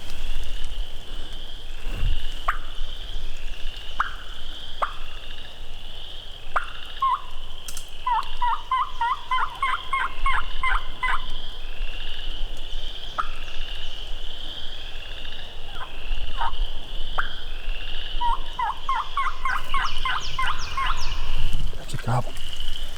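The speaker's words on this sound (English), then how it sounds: "That was a gobble. I'm telling you." Wild turkey gobbler in early-season Mississippi woods, giving repeated rattling gobbles that sound moderately distant, with soft background noise and occasional sharp clicks.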